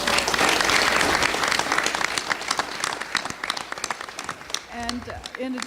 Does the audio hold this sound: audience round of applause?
yes